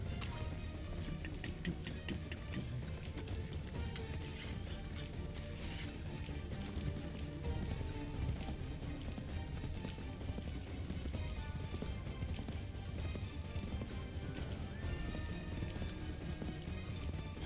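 Horse hooves clip-clopping at a steady gallop in the video game Assassin's Creed 3, a continuous rhythmic thudding mixed under game music and ambience with no speech.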